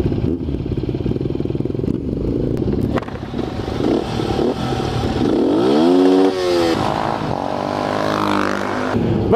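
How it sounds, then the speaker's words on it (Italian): A Ducati Hypermotard 796 motorcycle engine drones close by, then revs up in a rising whine as it accelerates, the pitch climbing and holding. "Abbiamo provato la moto, adesso ci andiamo a fare un giretto per Latina"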